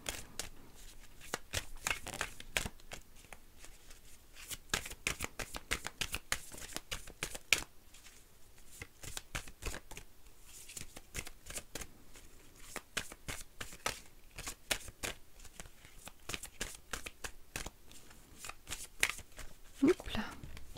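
Oracle cards are shuffled by hand for a tarot reading, a quick run of crisp riffling flicks and rustles at close range that continues steadily without pause.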